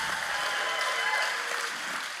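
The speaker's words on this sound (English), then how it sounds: "Come on, we can cheer for that" A church congregation applauds and cheers in a large room, a steady, fairly soft wash of clapping and voices that continues evenly throughout.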